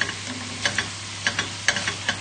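Chicken casserole frying in a pot, stirred with a spoon that scrapes the bottom: soft irregular scrapes and clicks over a steady sizzling hiss, close and moderately loud, with no voices.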